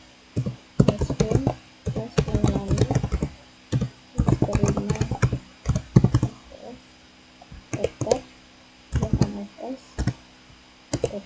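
Typing on a computer keyboard during a Linux terminal session, bursts of rapid key clicks separated by short pauses, close and clear with no talking over them.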